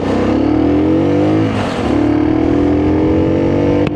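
Lexmoto RX1 motorcycle pulling away in first gear, its engine note rising steadily and loud and close, with a brief dip mid-run as the revs settle before climbing again.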